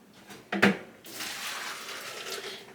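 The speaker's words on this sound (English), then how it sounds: "what I'm going to do is put my hot water in this pitcher" Hot water pours from a pot into a pitcher in a home kitchen, with a brief clink at the start followed by a steady, close splashing pour that runs to the end of the clip.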